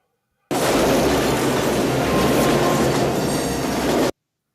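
A speeding train in the action film Under Siege 2 roars loud and continuous, a dense rumbling rush with metallic rattling, cutting in abruptly and stopping sharply after several seconds.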